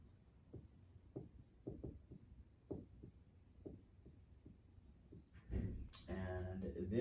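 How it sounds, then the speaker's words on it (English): Pen on paper as notes are written by hand: a run of short, quiet scratchy strokes in irregular bursts, close by, with a louder rustle near the end and no talking. "So let's write that down."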